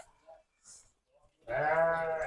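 A single ram bleats loudly and close by near the end, a wavering nasal cry after a few quiet, faint noises.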